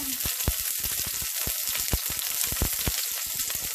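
Chopped onions and peppers sizzle loudly in hot oil in a pan, a close, continuous crackle with many sharp pops scattered throughout.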